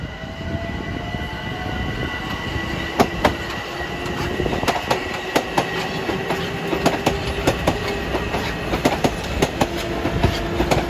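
Metro-North train 747 from Grand Central to Croton-Harmon passing Riverdale, a loud, steady roar with rapid rail clicks and clunks running through all of it and a faint high whine overhead.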